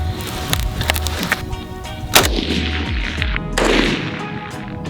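AK-47 rifle fired at a 200-meter target on an outdoor range: a few sharp, cracking reports spaced apart, with two standing out clearly above the background noise.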